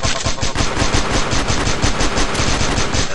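A KAC Red Bandage rifle in the mobile shooter CF Legends fires in a rapid, steady stream of loud, close shots, continuous with no speech.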